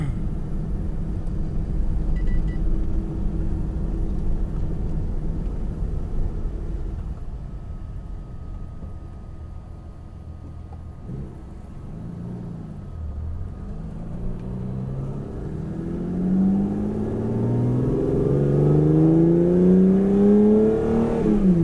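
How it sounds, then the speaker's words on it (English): A car engine rumbles steadily while driving, with low road noise throughout and rising revs toward the end as it accelerates. "Now I can just take this car out for a drive."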